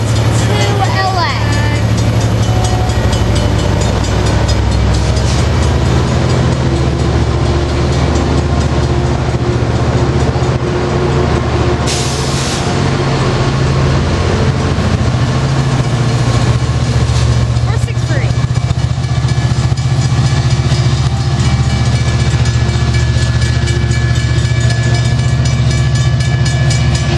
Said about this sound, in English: And now this train can leave.